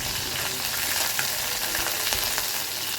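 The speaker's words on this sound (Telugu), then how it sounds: "వెల్లుల్లిపాయలు బాగా ఫ్రై అయిన తర్వాత కరివేపాకు వేసుకొని మరి కొద్దిసేపు ఫ్రై చేయాలి." Crushed garlic and curry leaves frying in hot oil for raw mango chutney give a steady, close sizzle, with a few stirring scrapes breaking through. No one speaks.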